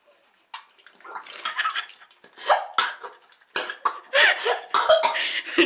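Water runs and splashes into a container in quick bursts, with coughing and vocal noises mixed in between the gushes.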